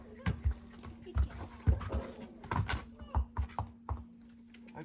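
A horse moving and stepping nearby, with a series of irregular thudding hoof clip-clops over a faint steady hum.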